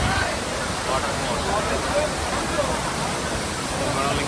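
Vibhuti Waterfalls roars in a dense, steady wash of falling water, with faint voices of people mixed into the constant rush.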